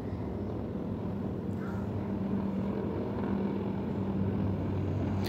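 Air force aircraft fly over during a parade rehearsal for an air show in Malaysia, a steady low engine roar that holds throughout at moderate distance, with no talking.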